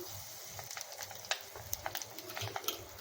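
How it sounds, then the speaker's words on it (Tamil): Mustard seeds crackling in hot oil during tempering, a soft steady sizzle broken by many small sharp pops at irregular intervals, close and fairly quiet, with no talking. "கடுகு வந்து பொரிஞ்சிச்சு."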